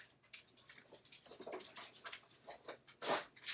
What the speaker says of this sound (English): Oh, no, the dogs. Stop stomping, please.